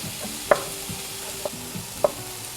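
Sliced garlic cloves hitting a pan of tomatoes and shallots over medium heat give a steady close sizzle, broken by three sharp clinks of stirring at an uneven pace, with no one speaking.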